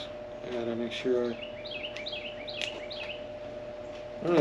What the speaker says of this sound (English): If you can hear the birds singing.